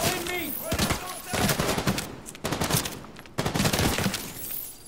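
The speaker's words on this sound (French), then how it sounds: "Je tire sur l'ennemi." Sustained bursts of rapid automatic gunfire from a firefight in The Division 2, loud and dense, broken by brief pauses, with a voice talking over parts of it.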